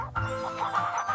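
A chicken clucks in a brief, close run of throaty, rolling notes lasting about a second.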